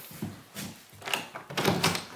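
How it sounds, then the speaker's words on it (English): A sliding or swinging exterior door of a house being opened onto a pool area, with a few soft knocks and rattles of the handle and frame, followed by a louder scraping slide as it swings open, close and clear. "Hopefully I can get one of these doors open."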